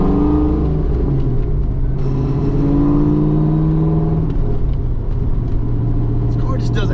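Ford Fox body car with tailpipes and 3.73 gears, warmed up and accelerating, its engine droning steadily and rising in pitch, heard from inside the cabin throughout.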